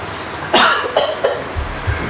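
A person coughs close up, three sharp bursts in quick succession followed by a couple of softer low thuds.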